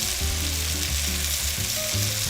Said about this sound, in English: you see the beef here as it's getting all nice and cooked